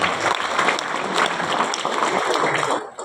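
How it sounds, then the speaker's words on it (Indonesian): A crowd at a school farewell event bursts into clapping, a loud, continuous patter of many hands that swells slightly and then starts to fade near the end. "Tepuk tangan untuk Bapak Ibu semua."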